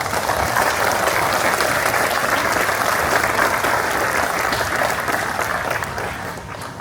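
Sustained, loud audience applause for artist Shepard Fairey at a zoo event celebrating the return of giant pandas, a dense wash of clapping that holds steady and then begins to thin toward the end.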